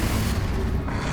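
Confringo blasting curse explosion in the Hogwarts Legacy video game, a short, dense, loud boom with a roaring rumble that fills the whole moment without a clear decay.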